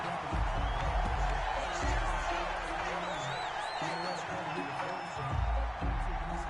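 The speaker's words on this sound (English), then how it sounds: "This home crowd, they're happy with that call." A home crowd at a football game cheers a referee's call: a broad, continuous roar of many voices with scattered whoops and whistles, heard under a commentator talking throughout.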